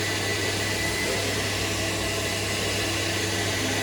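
A 1985 Karcher coin-operated vacuum cleaner at a 24-hour car wash runs steadily and close, giving a loud, constant broadband roar with a low motor hum throughout and no pauses.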